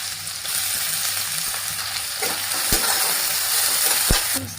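Finely chopped onion frying in hot oil with crushed garlic, a loud continuous sizzle with a couple of sharp utensil taps against the pan near the end.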